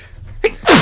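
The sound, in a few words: character sneezing in the video game Sakura Fantasy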